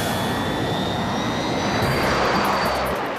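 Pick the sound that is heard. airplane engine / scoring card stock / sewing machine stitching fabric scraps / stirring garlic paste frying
airplane engine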